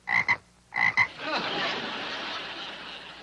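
Two pairs of sharp, harmonic croaks from a frog at a wedding, close and loud, each pair a quick double call, followed by a lingering hiss of room noise or scattered reaction.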